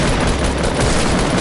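Gunfire in a tournament-style video game: dense, continuous burst of rapid shots, loud and unbroken across the moment, with no pauses between reports.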